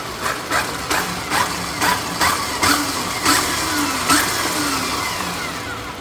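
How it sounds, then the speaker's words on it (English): Stark Varg electric motocross bike with the throttle twisted, a steady electric motor whine pulsing in a string of short surges, close and loud. "And then if you twist the throttle here,"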